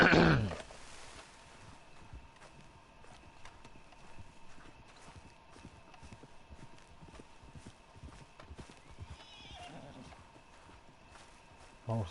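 Horse hooves clip-clop in a video game, a steady trotting rhythm running throughout at moderate level beneath a person talking, with no clear whinny standing out.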